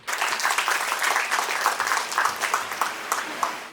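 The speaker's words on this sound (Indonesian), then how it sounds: "Boleh tepuk tangan yang meriah dulu untuk Kang Rama." An audience at an Indonesian event gives lively applause for speaker Kang Rama, a sustained crowd clapping that rises and falls slightly in intensity, fairly close and full, running without talk on top.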